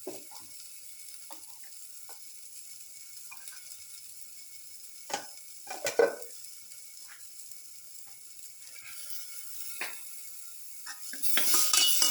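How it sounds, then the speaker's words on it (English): Utensils scrape and clink against a pan as ground cashew chili paste is stirred into chicken liver, with sparse scattered scrapes, louder clattering bursts near the middle and a steady soft sizzle underneath. "Try to mix with the rest of the mixture."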